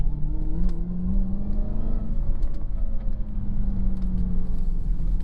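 Dodge Charger Hellcat, 797 hp, heard from inside the cabin while driving on the road: a loud, steady engine drone with rising and falling revs that runs without a break, with no voices.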